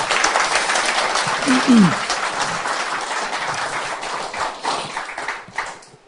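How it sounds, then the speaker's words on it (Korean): Lecture audience applauding at the close of a 2014 spring special talk by economist Sun Dae-in, a dense, sustained clapping that gradually thins out toward the end. "일단 박수 한번 주세요"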